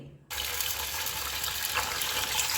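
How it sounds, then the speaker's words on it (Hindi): Toor dal lentils are rinsed under running water, a steady loud gush that starts abruptly and continues alone without any voices. "तो अब हम इसे अच्छे से 2 से 3 बार पानी से धो लेंगे।"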